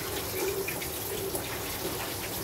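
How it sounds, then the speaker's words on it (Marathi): A kitchen tap runs steadily over boiled noodles held beneath it, a faint continuous splashing stream with no talk. "डायरेक्ट नाळाखाली पकडायचे आणि पाण्यातून काढून घ्यायचे"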